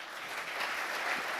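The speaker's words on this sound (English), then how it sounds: "A huge applause." A panel audience at an astronaut event gives a round of applause, a dense wash of clapping hands that swells slightly over a brief moment.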